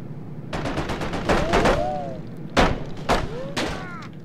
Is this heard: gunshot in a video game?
yes